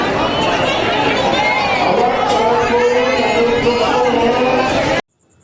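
A dense, steady crowd hubbub of many voices fills the air at the Banke Bihari temple in Vrindavan, loud and close, with overlapping chatter throughout before it cuts off abruptly.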